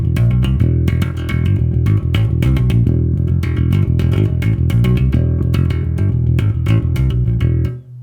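Thrash metal bass riff, a driving run of rapid, punchy picked notes in a steady fast rhythm, loud and continuous before cutting off at the end.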